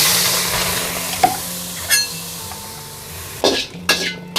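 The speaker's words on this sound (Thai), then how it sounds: "คั่วให้เกรียมเลยค่ะ" Shallots and garlic dry-roast in a pan, with occasional scrapes and clinks of stirring over a soft sizzle and a steady low hum.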